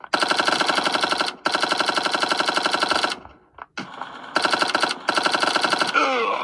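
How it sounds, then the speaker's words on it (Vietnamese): Rapid automatic gunfire from a mobile shooter video game rattles out in long, loud bursts, with a brief break and a muffled gap midway before the firing resumes. "bị đang bắn đằng sau"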